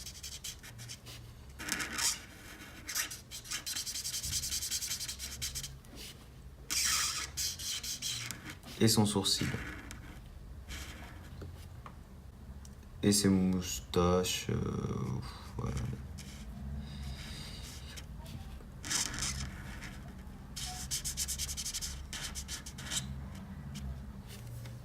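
A grey marker is rubbed in short, quiet strokes across a Fortnite emoji drawing, with soft scratchy passes that come and go while someone speaks French in a calm voice.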